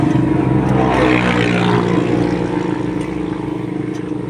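A vehicle engine climbs a hill road in Atimonan, Quezon with its exhaust pipe detached, producing a loud, rough, unbroken roar that eases slightly toward the end.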